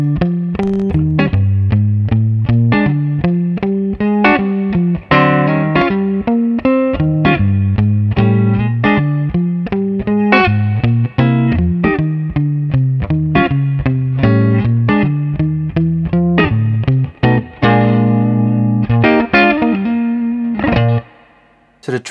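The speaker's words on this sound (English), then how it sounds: "The last level is based on a more jazzy blues chord progression, incorporating secondary dominance, chromatics, leading tones, and just some all-round jazzy lines." Guitar playing a jazzy blues walking bass line through an effects unit, with steady, plucked notes stepping up and down under chord stabs, loud and continuous for the whole stretch with no talking.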